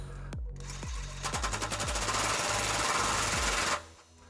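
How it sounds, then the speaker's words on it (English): A 22mm socket tightens a trailer hitch bolt under a 2006 Lexus LX470: a few separate hammering pulses, then a loud, continuous rapid rattling burst of about two seconds that stops abruptly. "This is a 22mm socket, and we're going to tighten this while we're pulling outward on the pry bar."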